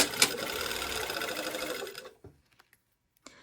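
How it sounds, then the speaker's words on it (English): A domestic sewing machine runs steadily for about two seconds as it stitches the seam of a slot zipper at 5/8 inch, close and loud. It then stops, leaving a few faint clicks and handling sounds. "And I'm sewing with the waistband up because I want to be able to see my previous stitch line."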